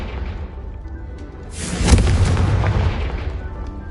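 A Confringo blasting spell explodes in Hogwarts Legacy: a low rumble builds, then a single loud burst erupts near the two-second mark and rolls off in a long, fading roar.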